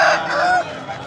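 A rooster at a weekly hen market in Pileru crows once, a loud, close, hoarse call lasting over half a second, with faint market noise afterward.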